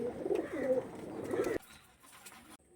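Flying pigeons kept for sale coo in low, throaty bursts for about a second and a half, close and fairly clear, followed by quieter rustling and faint distant chirps, with no talking.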